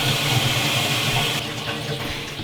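A Japanese toilet flushing, a steady loud rush of water that sounds close, easing slightly toward the end with no voices over it.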